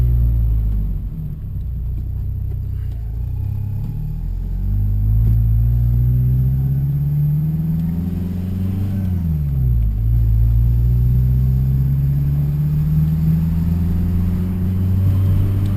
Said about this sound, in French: on entend aussi bien le bruit du compresseur